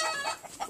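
Chickens cluck in a coop, a few short calls close by and fairly faint, with no talk.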